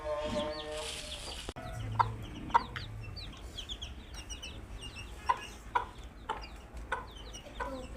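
Hens clucking on a home farm, with short, sharp calls popping out in pairs over a steady background of other farm sounds, fairly close and without talk.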